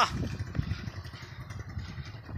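A motorcycle engine runs steadily at low revs throughout, with a rough, clattering texture and slight surges, heard close and fairly loud with no talk over it.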